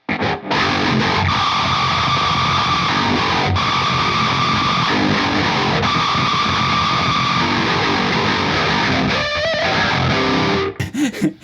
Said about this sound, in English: So that pedal is literally just for noise.